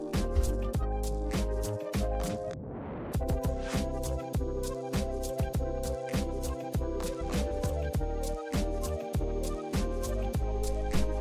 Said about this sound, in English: It sounds like a dentist drill in the background.